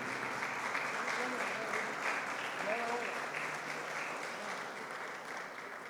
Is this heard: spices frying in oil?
no